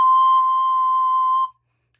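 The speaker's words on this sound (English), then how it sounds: "This is our high C." A single sustained high C on a recorder, clear and steady, held for about a second and a half before stopping cleanly, then silence.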